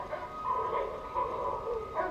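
A dog barks in a TV show, several faint muffled yips and barks in an uneven rhythm, heard distantly through a speaker without talk.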